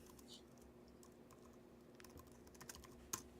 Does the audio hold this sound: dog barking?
no